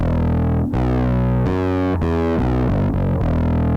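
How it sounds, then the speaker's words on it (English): A bass guitar played through a JHS Packrat distortion pedal set to its RAT soft-clipping mode gives loud, sustained, fuzzy notes that shift through several pitches in a steady riff, with no voices. "Let me try the brat tone because it's supposed to be with soft clipping"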